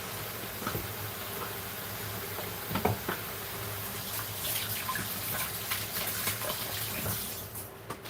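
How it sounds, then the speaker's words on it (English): Tap water runs steadily while hands are washed beneath it in a home kitchen during cake baking, a continuous close splashing hiss with a few brief louder splatters and no talking. "I'm just gonna wash my hands."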